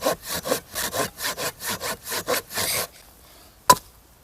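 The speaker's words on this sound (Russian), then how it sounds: "Так удобнее пилиться?" Hand saw cutting through a wooden log for a campfire, with about a dozen rhythmic back-and-forth rasping strokes that end abruptly, then a single sharp knock after a short pause; no talking.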